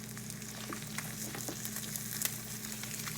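Egg and pepperoni fry in a pan with a steady, close sizzle and crackle, small pops rising now and then, no voices.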